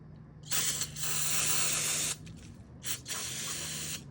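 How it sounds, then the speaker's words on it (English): Brake cleaner sprays from an aerosol can onto an oily valve cover part of a 2012 Ford Focus SEL hatchback, two close hissing blasts, the first longer, separated by a short pause. "And then hit it with some brake cleaner."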